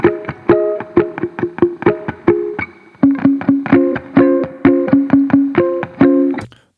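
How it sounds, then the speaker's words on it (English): An electric guitar plays a clean, palm-muted part: short, tightly choked plucked notes in a steady rhythmic pattern with a small amount of delay trailing each one, close and alone, changing pitch halfway through. "Little palm mute kind of thing with a tiny bit of delay."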